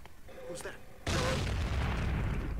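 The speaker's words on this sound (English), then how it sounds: "Have a grenade." A grenade goes off in the video game Secret Service. After a quieter stretch comes a sudden loud blast that stays as a heavy, rumbling roar through the rest of the moment.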